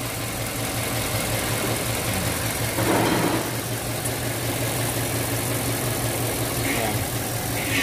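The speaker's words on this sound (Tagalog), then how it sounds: "nanginginig yung makina yan mapapansin nyo" A Mazda CX-5 Skyactiv engine with a cylinder 2 misfire idles with a low, uneven rumble, shaking and faintly rattling throughout, close by, with no talking.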